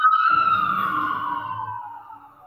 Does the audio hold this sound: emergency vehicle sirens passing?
yes